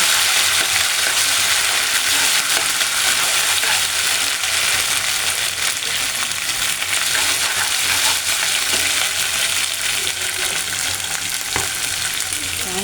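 Ginger-garlic paste, onion and fish frying in a pan for prawn and Malabar spinach curry give a loud, even, hissing sizzle throughout, broken by occasional crackles and soft stirring clicks.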